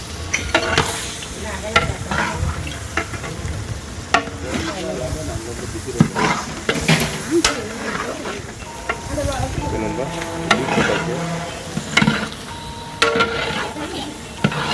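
Three kilos of beef being stirred in a large biryani pot, a continuous sizzling and scraping with repeated stirring strokes under steady frying noise, close up, with some talk over it.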